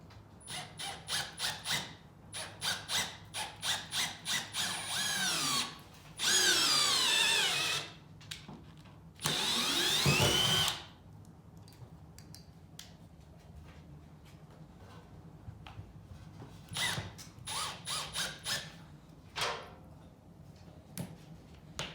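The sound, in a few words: power drill driving screw to make pilot holes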